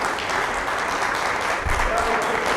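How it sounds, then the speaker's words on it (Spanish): Audience applause at a Spanish-language lecture on Europe and Robert Schuman, a dense, steady patter of many hands filling the room, with a faint voice underneath. "le damos el gran aplauso que estamos esperando"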